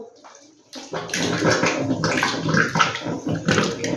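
Water pouring and gurgling into a blocked GI pipe, starting suddenly after a quiet moment, then a steady rushing splash with bubbling surges.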